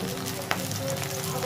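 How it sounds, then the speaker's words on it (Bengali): Mustard-poppy paste with green chili poured into onion stalks frying in oil, with a continuous close sizzle and one brief splash as the paste lands. "মশলাটা সর্ষে পোস্ত যে বেটে রেখেছি সেটা ঢেলে দিচ্ছি"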